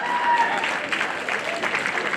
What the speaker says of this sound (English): Let's give a big round of applause for all the graduates.